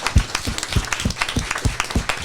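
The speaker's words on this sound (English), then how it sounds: "Let's give them a round of applause." A small audience at a live climate podcast event at SDSU claps in distinct, roughly even strikes, about two or three a second, close and fairly loud throughout the brief stretch.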